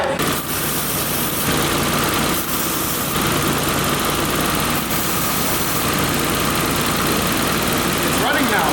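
A barn-find BMW E34 runs steadily after a cold start, its engine idling with a continuous rough, buzzing drone, close and unbroken, with voices faintly present.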